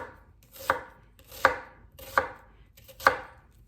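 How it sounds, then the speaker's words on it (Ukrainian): A knife chops steadily through onion on a board, four crisp, evenly spaced strokes close by with no talking. "Переходимо до нарізання цибульки."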